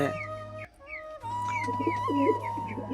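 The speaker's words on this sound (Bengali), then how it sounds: "চলো এবার সব কটা পায়রাকে খেতে দিয়ে দিই" Pigeons coo nearby in soft, repeated rolling calls that overlap one another, with a brief quiet gap partway through.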